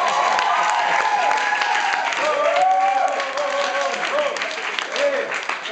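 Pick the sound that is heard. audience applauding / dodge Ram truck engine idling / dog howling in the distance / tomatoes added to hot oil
audience applauding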